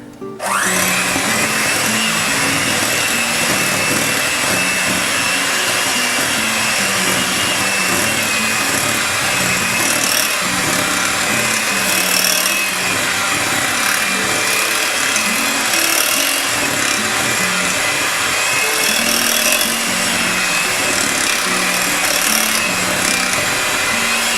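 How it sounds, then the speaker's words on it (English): An electric mixer blends snickerdoodle cookie dough in a continuous loud, whirring motor drone with a grinding edge, running steadily and close for the whole stretch with no talking. "we're going to go ahead and blend that"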